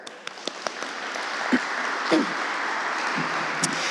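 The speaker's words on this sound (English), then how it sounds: "One more round of applause for her." An audience at a women-in-technology conference applauds a keynote speaker. A few isolated claps open into a full, steady round of clapping from a sizeable crowd.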